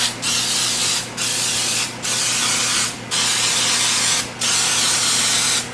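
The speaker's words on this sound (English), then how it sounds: "We are going to use the Pam baking spray." A can of Pam baking spray coating a muffin tin, five loud, close hissing bursts of about a second each, separated by brief pauses.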